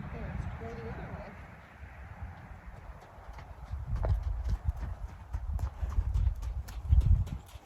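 Tennessee Walking Horse hooves clip-clopping on arena footing, soft thuds that grow into a quicker, louder rhythm of strides partway through, with a trainer's voice heard over the footfalls.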